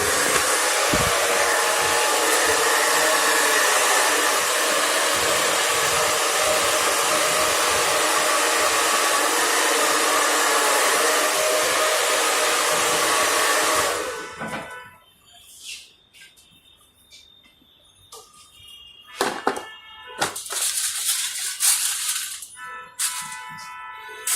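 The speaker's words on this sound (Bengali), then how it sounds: "জাস্ট হালকা ড্রায়ার দিলে" A hair dryer blows loudly and steadily at close range for about fourteen seconds while hair is styled with a round brush, then cuts off, leaving scattered clinks and handling noises.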